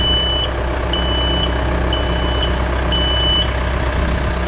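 Reversing alarm on a farm machine backing up while cutting drainage ditches in an asparagus field, four evenly spaced steady beeps sounding over a constant low diesel engine rumble.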